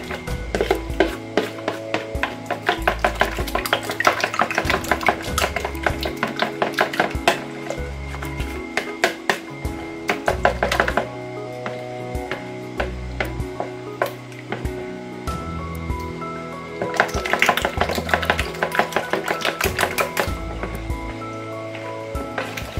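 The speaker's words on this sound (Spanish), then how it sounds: "En un bol amplio vamos a añadir los huevos, la leche, la levadura, la ralladura de los cítricos y mezclaremos bien." Eggs, milk, yeast and citrus zest are mixed in a wide bowl, giving rapid, steady clinking and scraping strokes close by, with brief pauses, no talk.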